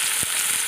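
Onions sizzle and hiss steadily in a hot pan, a continuous crackling fry heard close up.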